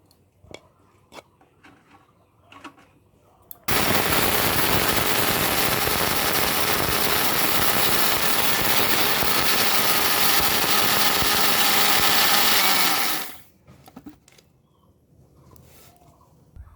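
Cooled sago being ground to a fine powder in a mixer grinder jar: a loud, steady whirring grind that starts abruptly, runs for about nine seconds and then cuts off, with quiet clinks before and after.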